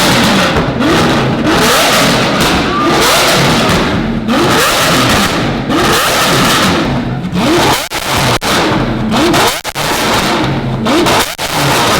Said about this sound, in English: valvetronic exhaust, everyone